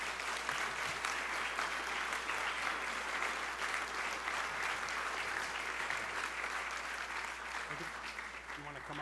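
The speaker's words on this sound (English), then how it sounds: "So let's give them all a big round of applause." A banquet audience at a journalism forum and awards dinner applauds the award fellows, sustained even clapping that fills the room for about nine seconds and tapers slightly at the end.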